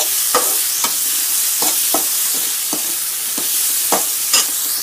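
A spoon stirs onion-tomato masala with turmeric and chili powder frying in a pan, with regular scraping strokes over a constant sizzle, close up and with no speech.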